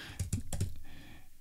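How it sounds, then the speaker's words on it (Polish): Four or five crisp, close keystrokes on the reMarkable 2 Type Folio keyboard in quick succession, followed by a fading quiet tail without any speech. "żeby pisać tą klawiaturą, no to jak się nam będzie pisało?"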